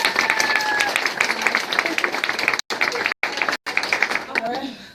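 An audience breaks into applause, loud dense clapping that runs throughout with a few sharp whistles early on and brief cut-outs in the sound.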